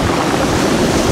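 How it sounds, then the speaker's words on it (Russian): Strong wind gusts buffet the microphone at the seashore in Anapa, a loud, steady roar of wind blended with surf and no voices. "Сейчас вот отсюда дует ветер, из-за этого здесь немножечко некомфортно."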